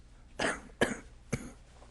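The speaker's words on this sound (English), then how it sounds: "It's my cough." Three sharp coughs in quick succession, close and fairly loud, with short pauses between them and no talking.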